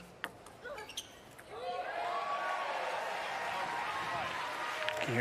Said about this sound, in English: You can hear the crowd starting to get into it.